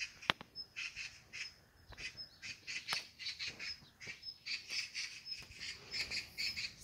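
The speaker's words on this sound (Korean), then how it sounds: "새들이, 무슨 새가 저렇게 큰지, 새는 안 보여요, 하나도" Wild birds call around a mountain house in the countryside, repeating squawking, chirping bursts in a steady uneven rhythm with a few sharp clicks, faint and somewhat distant over a quiet outdoor background.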